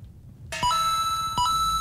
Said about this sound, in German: jetzt klingelt es hier aber ganz laut und ganz viel